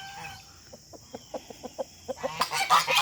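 A rooster in a fall garden gives a series of short, evenly spaced clucks that grow louder, ending in a louder squawking burst, fairly close and alone.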